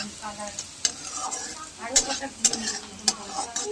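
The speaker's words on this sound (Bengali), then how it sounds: "সর্ষের তেলের মধ্যে আলু আর উচ্ছে সরু সরু করে কেটে ভাজা করছি লাল করে" Potato and bitter gourd frying in mustard oil, a soft steady sizzle punctuated by several sharp scrapes of a spatula stirring the pan.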